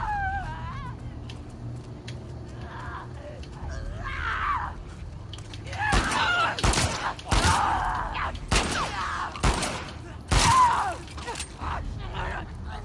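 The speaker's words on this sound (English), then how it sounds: "these stalkers, I feel like they're worth the bullets to take them down" Gunshots fired at stalkers in The Last of Us Part II ring out as several sharp, loud single blasts spaced a second or two apart, over quieter creaking game ambience and a voice talking.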